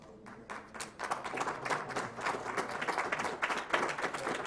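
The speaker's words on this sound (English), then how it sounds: "Let's everyone in the room Thanks, give a big Jake. applause to the man himself, UA." Live room audience at a Games Done Quick speedrun marathon applauding, a broad, sustained patter of many hands clapping, fairly distant and without talk.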